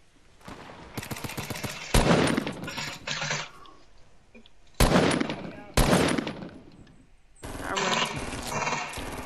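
Bursts of gunfire from the video game Fortnite, loud and close, arriving in several rapid clusters of rattling shots separated by brief quieter gaps, with no talk over them.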